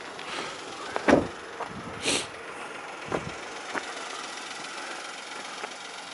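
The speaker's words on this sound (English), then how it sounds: "Let's close the door." A Volkswagen Polo SE petrol car door shuts with a single solid thud, followed by a few quieter clicks and knocks against a soft background hiss.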